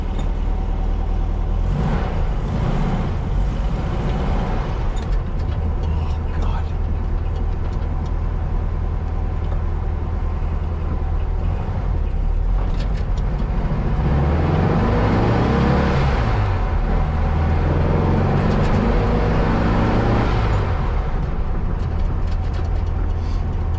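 A 1964 VW Beetle with a replacement engine bought through Facebook runs steadily and loudly up close, its note rising and falling as it revs and pulls away on a short drive, with a rumbling low drone throughout.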